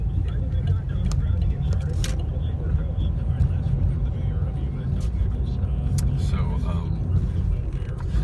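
Morning rush-hour road traffic heard from inside a moving vehicle in a wide lane, a steady dense rumble of cars and engines throughout with faint passing swishes.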